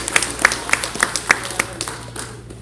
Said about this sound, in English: Give him a round of applause at this time.